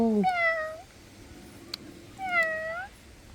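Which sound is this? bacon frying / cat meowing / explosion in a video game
cat meowing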